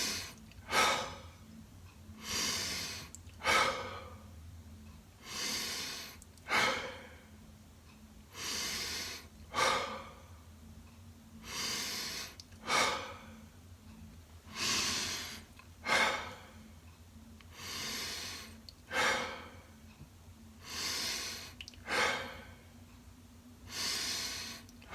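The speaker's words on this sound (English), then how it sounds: "Now I'm going to start the breathing cycle again." Wim Hof method breathing cycle: a run of about fifteen deep, forceful breaths, each a loud rushing inhale and exhale, close and evenly paced, with no talking.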